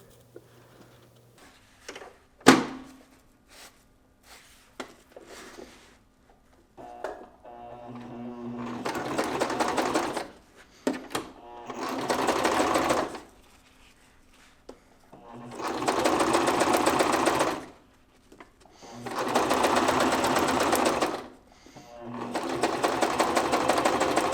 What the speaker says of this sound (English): going to stitch this just across the bottom, right here